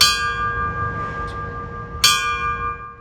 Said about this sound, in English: Along with a ringing of the bell ceremony